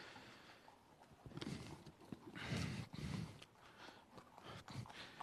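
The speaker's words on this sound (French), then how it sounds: "Alors le cheval vient de rentrer" Horse hooves clip-clopping at a stud farm as a stallion walks in, irregular hoof strikes at moderate distance over faint background noise.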